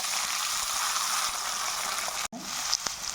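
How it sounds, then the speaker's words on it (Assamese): Small potatoes fry in hot oil with a dense, steady sizzle that cuts out for a moment before resuming, followed by a faint stir and clink, close and loud. "এয়া মই আলু গুটিটো এতিয়া অলপ ফ্ৰাই"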